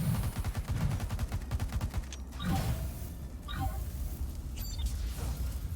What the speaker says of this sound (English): It's a lot of fire.